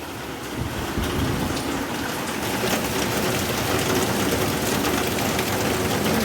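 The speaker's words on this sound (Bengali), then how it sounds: "জোর বৃষ্টি হচ্ছে" A heavy downpour roars steadily, a dense, even hiss of rain pounding surfaces that holds at the same loudness throughout.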